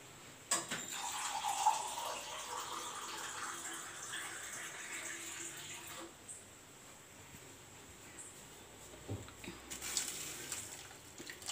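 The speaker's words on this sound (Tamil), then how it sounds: "இப்போ இன்னும் கொஞ்சம் தண்ணி ஊற்றணும்." Water is poured into a simmering kadai of empty salna, a Tamil gravy, during home cooking: a steady, close splashing pour for about five seconds, then quieter bubbling with a few brief splashes near the end.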